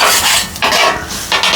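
Kothu parotta is chopped on a griddle with metal spatulas: three bursts of loud, close clattering metal strikes in an uneven rhythm, with a faint sizzle underneath.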